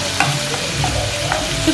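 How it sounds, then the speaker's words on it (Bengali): Garlic fries in a pan over a high gas flame while it is stirred for chili chicken, a close sizzle with scraping and stirring strokes and no voices. "দেখো রসুনটা অনেকটা ভাজাই হয়ে গেছে,"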